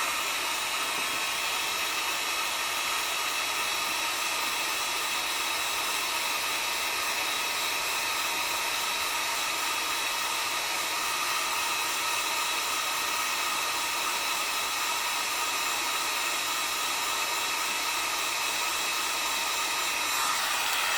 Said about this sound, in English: I'll let my heat gun warm up a second just to get up the temperature